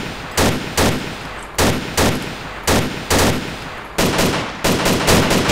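Gunfire from the video game DayZ: loud, close bursts of automatic fire repeating in short volleys with brief gaps, growing more rapid toward the end, with no talk over it.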